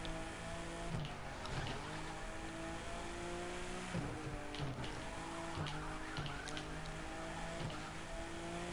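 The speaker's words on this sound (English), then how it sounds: "Got some good drifts here, we got the flow going" A car drifts with nitrous boost in The Crew 2, its engine droning steadily while tires squeal and skid in repeated swells over continuous game sound, with no voices.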